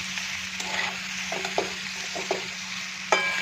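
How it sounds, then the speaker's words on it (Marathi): Boiled, finely chopped potato being stirred into well-fried onions in a pan for aloo matar bhaji, with a steady sizzle under scattered scraping spoon strokes, one sharper clack near the end. "त्याच्यात आता उकडलेला बारीक चिरलेला बटाटा घालणार आहोत आणि तो चांगला मिक्स करायचा"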